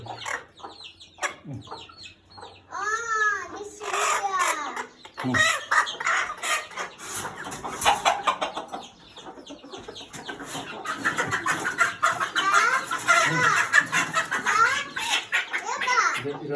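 Chickens cluck repeatedly at a dairy and agro farm, with crowing-like calls and scattered clucks rising and falling over about sixteen seconds, fairly close and lively, with some voices mixed in.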